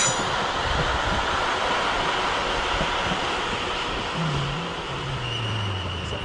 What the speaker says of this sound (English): London Overground service coming in from the East London line